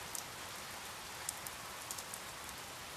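Gentle rain falls steadily at night, a soft continuous hiss with a few faint drips standing out, with no voices.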